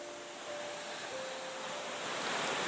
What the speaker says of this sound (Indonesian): ada sebuah sungai yang dinamakan Winongo